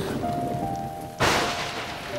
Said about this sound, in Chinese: 打雷而已，打雷而已。